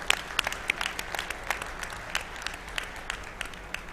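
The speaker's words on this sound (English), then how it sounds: "Round of applause." Applause at a classic car auction in Hershey, moderate and fairly distant, with scattered sharper individual claps standing out against a softer wash of clapping.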